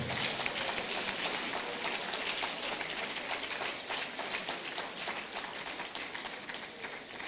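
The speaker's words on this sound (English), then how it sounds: "So please, give him a round of applause." A lecture audience gives a sustained round of applause, many hands clapping together in a dense, rain-like patter that stays fairly even and moderately distant from start to finish.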